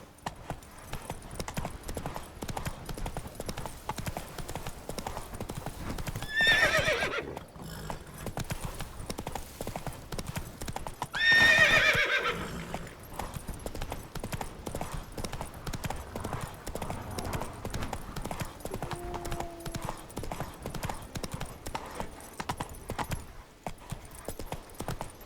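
Horse hooves clip-clop at a steady walking pace in The Witcher 3, the horse's rhythmic footfalls continuing throughout with two brief whinnies partway through, all moderately quiet.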